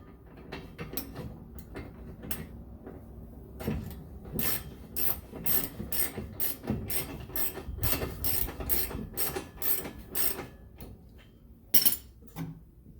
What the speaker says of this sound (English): get your first bolt in there. Get your wrench on it.